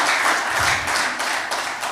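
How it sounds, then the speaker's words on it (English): A church congregation claps along in a steady, dense wash of handclaps filling the room, with faint voices mixed in. "Give the Lord a hand clap of glory"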